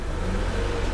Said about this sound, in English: I revved it up a little bit.